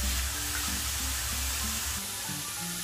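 Spring onions and leaves sautéing in a pan for a tawa paneer fry give a steady, close sizzle with faint clinks of stirring, with no talk over it.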